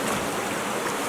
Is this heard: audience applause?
no